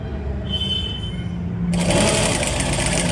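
A sewing machine stitches fabric tucks: a soft hum, then a sudden loud, fast, steady mechanical whirr of the running needle.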